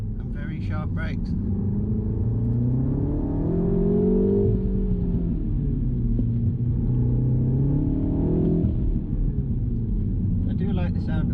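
A classic car's engine drones in sports mode, giving a loud, low, rising and falling rumble as it revs and eases. Brief talk is heard at the very start and end.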